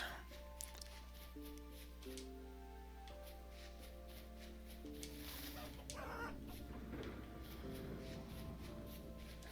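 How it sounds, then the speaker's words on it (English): Video-game chickens cluck and murmur in a scenic river-gorge setting, with soft repeated clucks over a steady tonal music bed and faint background noise. "You chickens, I will make a chicken trap."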